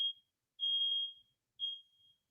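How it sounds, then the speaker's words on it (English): Electronic beeping sounds three times, high and piercing, with short sustained tones separated by silence, faint and somewhat distant. "what is that beeping?"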